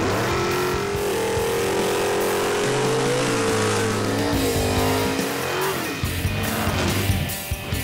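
Mopar drag race cars at an all-out finals event in Memphis roar steadily and loudly at close range, engines droning and revving with a continuous dense rumble throughout.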